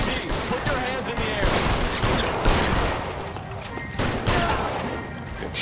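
Gunfire in the video game L.A. Noire comes as rapid, loud, overlapping shots during a vehicle chase, with engine roar and shouting voices mixed in throughout.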